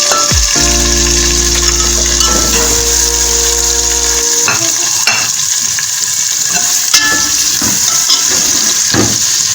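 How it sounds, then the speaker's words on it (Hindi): Chopped onions sizzling and frying in a pan, a steady loud hiss with stirring scrapes, while a sustained low hum fades out partway through. "इन प्याज़ों को हमने लाइट ब्राउन करना है"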